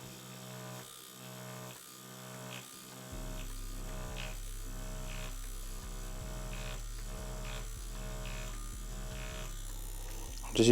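A tattoo machine buzzes steadily during tattooing, a continuous electric hum with a regular pulsing rhythm, growing a bit fuller partway through, quiet and close with no talk.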